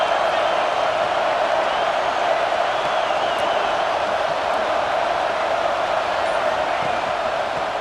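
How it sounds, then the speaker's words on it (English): Steady, dense roar of a stadium crowd in EA Sports College Football 26, a loud continuous wash of many voices with no clear breaks, heard early in a game in a hostile environment for the visiting team. "Listen to the crowd energy here in the early going."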